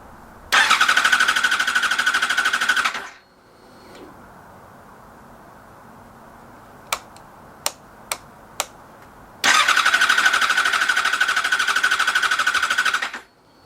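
A Yamaha FZ6 Fazer motorcycle's starter whirs loudly for about three seconds and stops without the engine catching, followed by a quiet pause with a few sharp clicks, then a second long cranking burst that again fails to fire.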